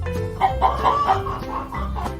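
Cartoon hens cluck in short repeated bursts, close and fairly loud, over a steady music bed in a children's Gingerbread Man story.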